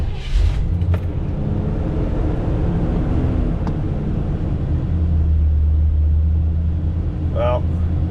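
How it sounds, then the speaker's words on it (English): A 1979 GMC Vandura engine fires up on a freshly fitted Edelbrock carburetor, settling into a steady, loud low idle rumble that runs continuously throughout, with a brief higher-pitched chirp near the end. "So this is the first start of the new carburetor."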